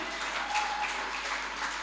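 A church congregation at a Good Friday service claps for God, a faint, steady patter of many hands heard at a distance over a low hum.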